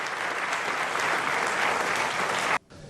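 Dense, loud applause from an audience during Daniel Noboa's speech, continuous clapping that cuts off abruptly near the end.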